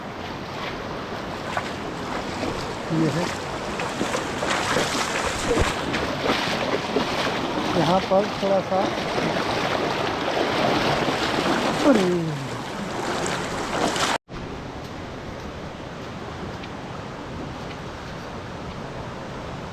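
River crossing in the hills of Pauri Garhwal, with water rushing and splashing steadily and loudly near the microphone, mixed with wind buffeting, while a voice speaks briefly over it.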